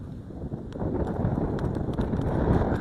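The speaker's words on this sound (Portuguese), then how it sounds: "E o vento tá forte." Strong wind blows at an outdoor fish farm, a steady, heavy roar buffeting the microphone throughout, with a few faint clicks and taps scattered over it.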